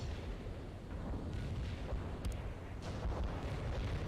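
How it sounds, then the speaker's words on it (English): Rocket fire and explosions in the war game World in Conflict roll on as a dense, low rumbling barrage, with a few sharper cracks in the middle and no voices. "They're firing off these rockets"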